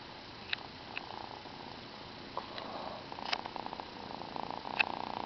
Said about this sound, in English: Are we gonna purr?